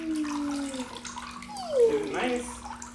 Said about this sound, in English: A baby playing with water.